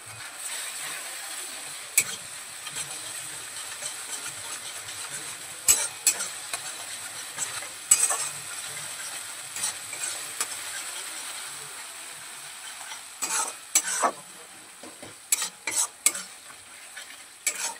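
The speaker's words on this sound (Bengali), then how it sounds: "ক্রমাগত আমি মশলাটা নাড়তে থাকবো, যাতে কড়াই কোনোভাবে লেগে না যায়" Masala with cashews is stirred steadily in a wok over low to medium heat for a no-onion, no-garlic paneer dish, with a continuous soft sizzle broken by sharp scraping clicks of the spatula, close and without talk.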